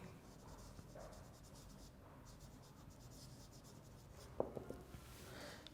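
Chalk or marker scratching across a classroom board as a teacher writes, a steady faint scraping with a few sharper taps near the end, over quiet room hiss.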